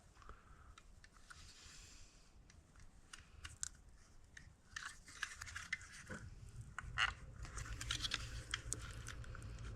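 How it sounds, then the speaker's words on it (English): A flat-blade screwdriver pries and peels a rubber tire tread off a Roomba wheel, making irregular close ticking, scraping and snapping clicks that grow busier and louder toward the end. "we're going to take our flat blade screwdriver and peel the tire off"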